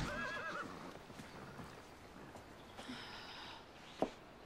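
A horse whinnies faintly in the distance, with soft snorts and a few hoof clops in a quiet outdoor setting.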